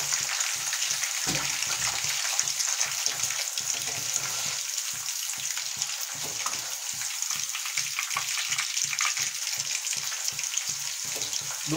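Food frying in hot oil gives a dense, steady sizzle that runs loud and close throughout, with soft low bumps from the pan being stirred and no talking.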